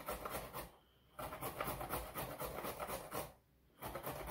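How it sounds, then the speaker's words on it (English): Carrots scrape rhythmically across a grate-and-measure grater, a soft rasping run broken by two short pauses, quiet and close with no voices. "The grate and measure allows me to measure what I'm grating while I'm grating it."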